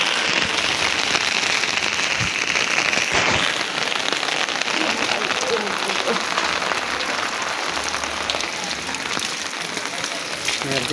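A heavy downpour over a Dhaka street makes a loud, continuous broadband roar of rain, thick and unbroken throughout, with scattered low thumps of drops hitting nearby surfaces.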